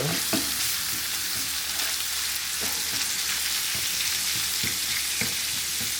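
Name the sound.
raw pork frying and being stirred in a pan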